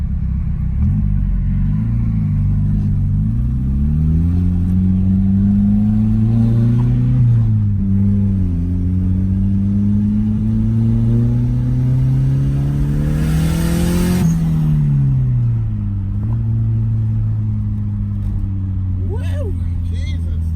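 A turbocharged car running at high boost on corn-based ethanol fuel revs and accelerates hard, its engine note climbing steadily through the gears with a brief dip before pulling again, loud and close throughout, with occasional voices underneath.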